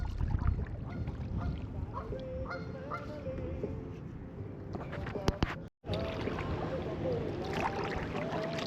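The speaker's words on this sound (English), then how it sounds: "That goose is honking at me" A goose honking repeatedly near a kayak on a creek, with scattered calls over water and outdoor ambience and people talking in between.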